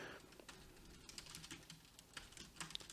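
Rapid clicking on a computer keyboard as notes are typed into a Studio One mixing console channel, a quiet, close, irregular run of keystrokes with no talk over it.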